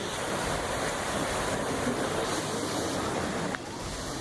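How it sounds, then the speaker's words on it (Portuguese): A floodwater torrent rushes through a flooded street, carrying a motorbike and knocking down structures; a loud, continuous roar of churning water with a steady windy rush and a slight drop near the end. "A enxurrada derruba estruturas e leva uma moto."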